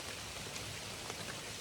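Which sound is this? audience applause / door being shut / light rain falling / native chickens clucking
light rain falling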